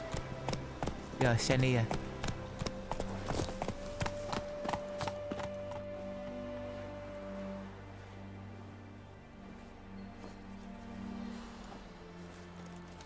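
Horse hooves clip-clopping as the mount Roach gallops in The Witcher 3, a rhythmic run of hoofbeats that settles under steady game music, with a voice speaking briefly near the start.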